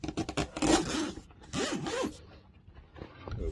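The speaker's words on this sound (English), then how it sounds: "Or just zips." A portable boat trash bag zips shut, with several close, sharp zipper rasps in quick bursts separated by short pauses.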